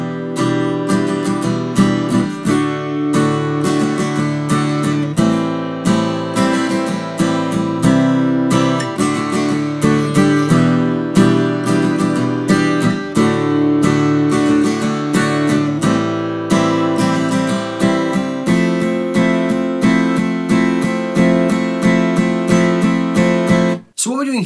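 Acoustic guitar strumming a steady rhythm through a song chorus, with dense chords ringing continuously and loudly for most of the passage before stopping abruptly at the end.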